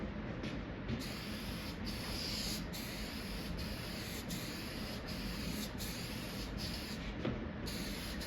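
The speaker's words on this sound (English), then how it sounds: "You just want to kind of evenly spray this stuff." Steady hissing spray from an aerosol can coating a 1959 Chevrolet Impala fender skirt, pulsing in short repeated passes, close and continuous with no talking.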